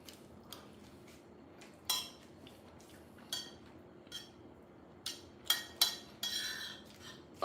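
Cutlery clinks and scrapes against a plate while someone eats eggs, a scattering of faint, sharp metallic taps at an irregular pace, a few louder toward the end, with no talking.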